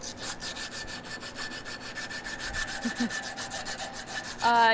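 Rhythmic sanding strokes rub across a forged steel coffee scoop handle clamped in a vise in a blacksmith shop, a steady back-and-forth scraping of roughly twenty passes, close and fairly loud, with a brief louder burst at the end.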